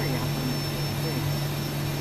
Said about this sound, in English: good start on engine 1